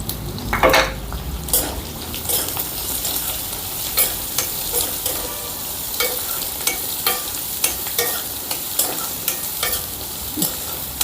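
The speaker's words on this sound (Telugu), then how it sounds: "కొద్దిగా ఒక నిమిషం పాటు వీటిని వేపుకుందాం మనం వేసిన వెల్లుల్లి రెబ్బలు ఉల్లిపాయి ఒక నిమిషం పాటు వేపుకున్నాం" Sliced onions and garlic cloves fry in hot oil in a pan, giving a steady close sizzle broken by regular clinks and scrapes of a spoon stirring against the metal.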